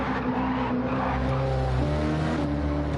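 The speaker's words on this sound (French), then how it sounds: "Une petite tentative de drift quand même." A car on the Nordschleife tries a drift, its engine droning loud and steady with a shifting pitch and a hint of tire scrub, close and continuous with no talking.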